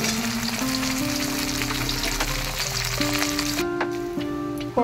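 A stick of cinnamon, chopped onion, ginger and garlic paste and tomato fry in oil in a wok, making a steady, loud sizzle that runs throughout with no talk.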